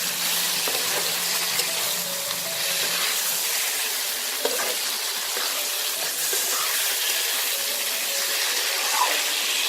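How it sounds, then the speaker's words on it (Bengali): Fish head masala for a Bengali muri ghonto is stir-fried in a pan with a continuous hissing sizzle and soft scraping from the stirring, steady and close throughout. "ভালো করে এটাকে কষাবো।"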